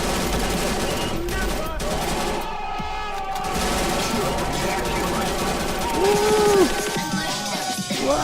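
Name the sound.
gunfire in a video game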